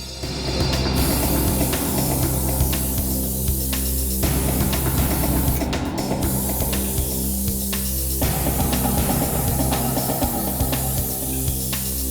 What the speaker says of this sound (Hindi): लिफ्ट में चारों तरफ अच्छी तरह से स्प्रे कर दें,